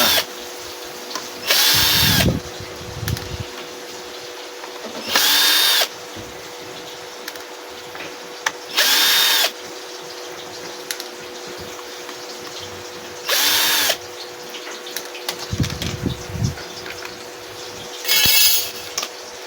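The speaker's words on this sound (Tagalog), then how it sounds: "Tatanggalin ulit natin to yung apat na tornilyo ng isa." A power drill backs out screws from a solar charge controller in five short, separate whirring bursts, each a second or so long, with quiet handling noise in the gaps between them.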